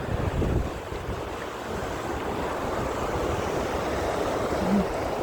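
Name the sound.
waterfall at Takakkaw Falls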